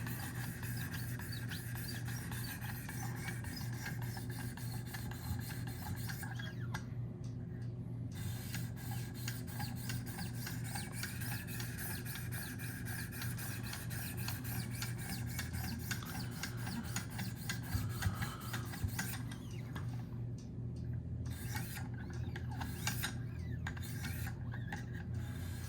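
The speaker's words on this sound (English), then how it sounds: "we are going to hit it with the strops just to deburr just a touch." A Spyderco Shaman knife with an S90V steel blade is stropped to remove the burr on a guided sharpening system, giving faint, repeated light scraping strokes in a steady rhythm over a quiet background hum.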